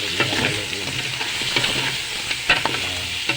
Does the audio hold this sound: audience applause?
no